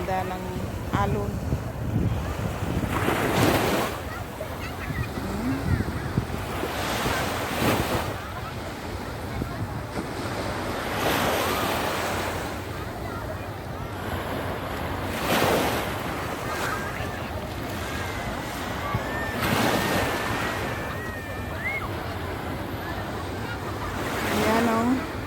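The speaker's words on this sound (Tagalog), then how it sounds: "Ganda ng alon." Ocean waves surge and crash repeatedly onto the shore at high tide in Fahaheel, Kuwait, broad roaring bursts every few seconds over steady wind noise, with occasional faint voices.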